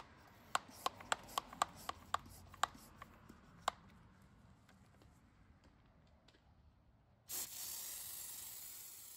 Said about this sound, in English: Now charge the sprayer with a few pumps.